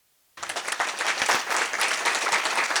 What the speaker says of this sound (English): So let's give one more round of applause for Roger.